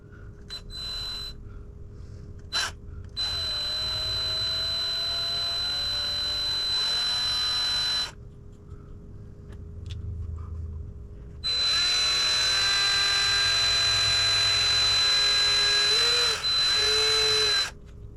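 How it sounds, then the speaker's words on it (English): A variable speed power drill whines at varying speed in two long runs while drilling a hole in a fishing lure, rising and falling in pitch, with a brief pause between them. "it's best to use a variable speed drill to drill this hole"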